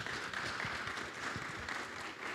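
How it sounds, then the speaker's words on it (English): Steady applause from a crowd at a blockchain summit, continuous clapping throughout at moderate volume, with no voices standing out. "Round of applause, everyone."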